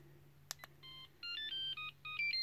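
A Star Trek ringtone plays on a Garmin Navtalk GSM mobile phone with built-in GPS. Two clicks come first, then a short run of electronic beeping tones follows in a steady pattern, faint and thin over a low hum.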